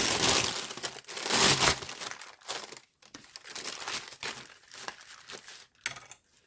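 Sheet of baking paper being crinkled and handled by hand, bursts of crisp rustling and crackling that come and go with short pauses, close up.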